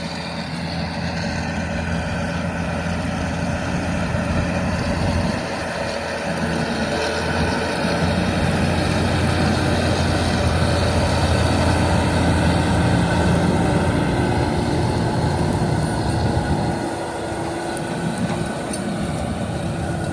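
Kirovets K-701 tractor, re-engined with a foreign motor, working a field under load while pulling an eight-body Kverneland reversible plough, a loud continuous engine roar with brief dips in load.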